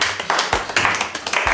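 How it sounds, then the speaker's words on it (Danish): A small group of young people clap for themselves after finishing a McDonald's eating challenge: a short burst of close, uneven handclaps with sharp transients, repeating in quick clusters. "Giv os selv en klapsalve."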